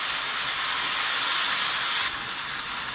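Ginger-garlic paste sizzles in hot oil while cooking a Bengali potol chingri (pointed gourd with prawn) curry, a loud, steady, close hiss that drops slightly in level partway through, with no talking.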